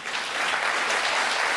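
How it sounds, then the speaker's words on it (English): A burst of applause from a crowd, dense steady clapping throughout with no voices. "Pause for applause"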